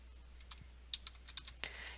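Fingers type a short folder name on a computer keyboard, a quick run of light, separate key clicks ending in one firmer tap, close and quiet with no voices.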